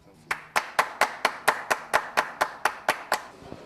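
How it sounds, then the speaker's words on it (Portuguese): Steady rhythmic clapping in honour of actress Ruth de Souza at a book event, about a dozen evenly spaced, sharp claps from a small group heard close up. "Vamos aplaudir Ruth de Souza, nós dois,"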